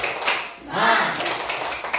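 Rhythmic group clapping from a training session crowd in Gorontalo, a short burst of claps with voices calling out over it.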